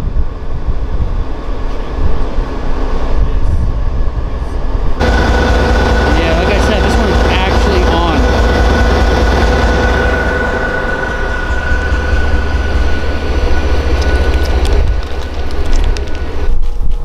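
A parked Boston Line commuter train engine, one of many in a long line of abandoned cars, runs steadily with a loud, broad rumbling drone and a sustained mechanical hum, nearby and continuous throughout.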